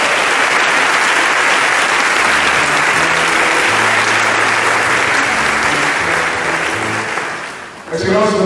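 A church congregation at a parish priest's installation in Cocody bursts into sustained, loud applause acclaiming Pope John Paul II, a dense wash of clapping that holds steady for several seconds before tapering off near the end.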